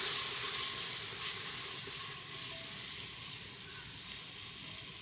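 Ginger garlic paste sizzles loudly in a pan with browned onions while cooking aloo gosht, a dense, steady frying hiss that holds throughout with slight stirring.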